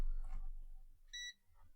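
A short electronic beep sounds once from an ESP and Arduino electronics setup on a workbench, a steady tone lasting about a fifth of a second, preceded by faint muffled handling and followed by a soft click.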